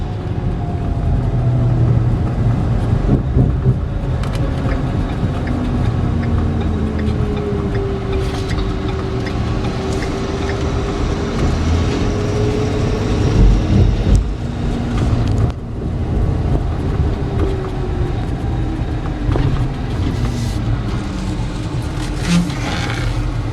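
A 2013 Ford F550 4x4 rollback flatbed truck cruises down a straight road, its steady engine drone and road rumble continuous and loud, with faint rattles and a few brief knocks along the way.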